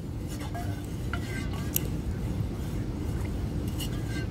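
Buko pandan dessert mixture being stirred in a bowl, soft wet churning with occasional light clinks of the utensil against the container.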